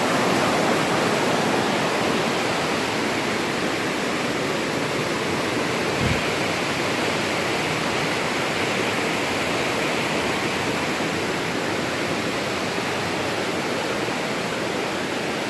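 A mountain river at Smokemont in the Great Smoky Mountains rushes steadily past a creek bridge, a loud, even roar of water with one soft low thump partway through.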